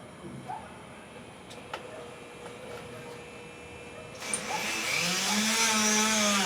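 A Dremel rotary tool fitted with a small bit cuts into a Shimano XT rear derailleur, a steady high whine that sharpens into a louder grinding scream near the end, close and continuous with no voices.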